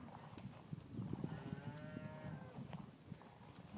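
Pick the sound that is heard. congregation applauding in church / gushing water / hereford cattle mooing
hereford cattle mooing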